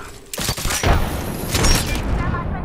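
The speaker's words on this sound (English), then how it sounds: "The enemies are shooting at me" Enemy gunfire in Apex Legends, several loud close bursts of shots and impacts in quick succession, with a voice briefly mixed in.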